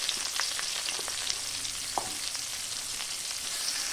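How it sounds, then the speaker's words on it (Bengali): Onions go into the same hot oil already used to fry potatoes for mutton kosha, giving a steady close sizzle with a few light stirring scrapes of the spoon and no speech. "এবার আমি ওই একই তেলে দিয়ে দেব পেঁয়াজ"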